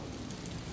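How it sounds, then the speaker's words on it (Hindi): Heavy rain lashes down in Karachi, a thick continuous wash of drops with a deep low rumble beneath, loud and close throughout the short stretch, with nobody speaking. "कराची में आज सुबह से होने वाली तेज बारिश के बायस नशेबी इलाके ज़ेर-ए-आब आ गए"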